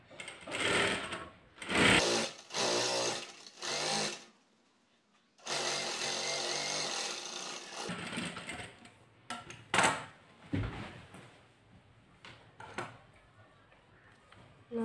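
Close sewing machine stitching along a blouse neckline in short uneven bursts of whirring, with pauses, light handling clatter and some quiet talking between runs.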